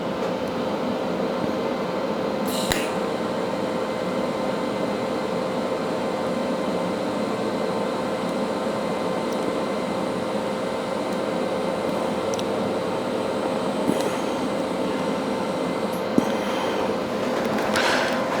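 A gas torch heats metal to form a weld puddle on a costume headpiece, giving a steady, loud broadband roar and hiss that runs throughout with a few faint clicks and no talking.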